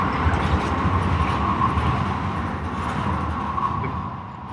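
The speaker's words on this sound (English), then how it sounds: "you can hear a famous San Francisco tram going by" A San Francisco cable car rumbles past steadily with a low mechanical drone and a faint metallic hum, fairly close and continuous throughout.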